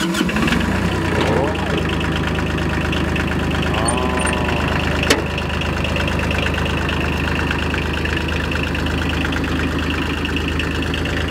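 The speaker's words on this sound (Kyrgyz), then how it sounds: "Биз азыр трактордун ээси от алдырып, бир жүргүзүп көрсөтсүн." A small 22-horsepower mini tractor's engine cranking, catching and then idling with a steady, loud, close diesel-like chug, while people talk over the running engine.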